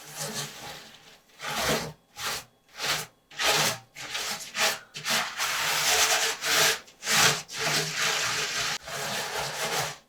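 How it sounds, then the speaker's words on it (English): Sponge spreading Oven Pride cleaner across the bottom of a heavily built-up oven, giving repeated rough scrubbing and wiping strokes in an uneven back-and-forth rhythm, close and fairly loud. "use a sponge, just to spread the solution around in the bottom of the oven"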